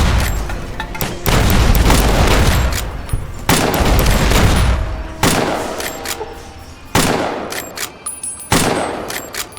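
Repeated gunfire bursts in Fallout New Vegas, loud and close, with sharp booming shots arriving in several clusters and heavy reverberant tails between them.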